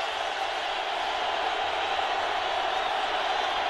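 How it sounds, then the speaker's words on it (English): Steady, broad roar of a football stadium crowd raising its voice on third down at a Raiders at Chargers game in 2009, continuous and distant without distinct peaks. "Crowd raises its voice on third and three at the 20"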